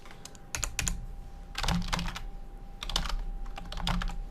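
Quick clusters of keystrokes on a computer keyboard as a password is typed, close and crisp, in several short bursts separated by brief pauses, with no voices.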